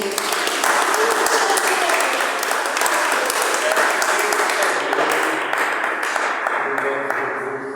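A church congregation claps loudly and steadily for several seconds, a dense burst of hands that thins slightly toward the end, with faint voices mixed in under the clapping.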